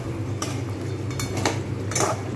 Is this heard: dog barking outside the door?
no